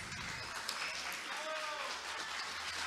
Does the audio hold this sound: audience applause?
yes